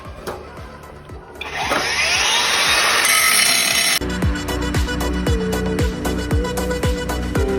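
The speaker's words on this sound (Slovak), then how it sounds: "s brúskou si tam spravím krásny nábeh, brúským kotúčom" An angle grinder with a 3 mm disc grinding a groove into a weld, a loud close whine rising as it bites into the metal, then a steady harsh grinding with rhythmic pulses.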